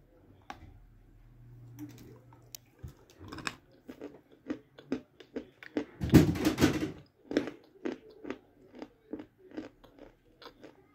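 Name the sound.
crunching chalk being chewed and eaten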